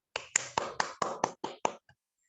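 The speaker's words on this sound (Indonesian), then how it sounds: "beri tepuk tangan buat Vivian dan Erlin" About eight sharp, evenly spaced claps at a high school student council debate, close and crisp, then a faint final one before silence.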